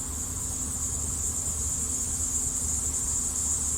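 A cluster of honeybees festooning and drawing comb in a hive gives off a steady, dense hum that holds unbroken throughout, close and fairly loud, with no voices over it.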